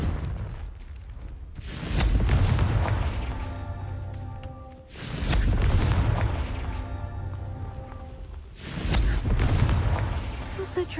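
Booming explosions from the Confringo spell in a video game, three heavy blasts spaced a few seconds apart, each swelling and rumbling, with a voice talking over the game audio.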